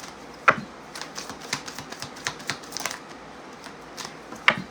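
Tarot cards shuffled close up in a quiet room, producing soft, irregular papery flicks and taps with a couple of sharper snaps, fairly faint and with no talking.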